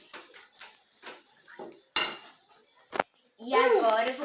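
A spoon clinks and scrapes in a bowl while stirring edible slime mixed with Nutella, with a few soft taps before a sharper clack and a voice speaking near the end.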